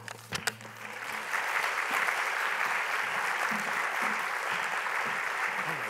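Audience applause at a National Book Awards reading at The New School, starting with a few scattered claps and then swelling into a full, even round of clapping that holds steady to the end.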